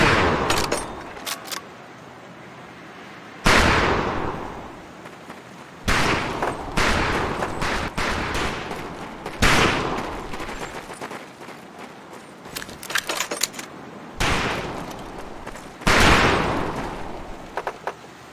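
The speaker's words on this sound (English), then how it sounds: "Take your time to aim and fire the weapon in short bursts only." An M1928A1 Thompson submachine gun in the Medal of Honor Pacific Assault video game fires repeated loud, close bursts of rapid automatic shots, separated by short pauses, with faint background ambience between them.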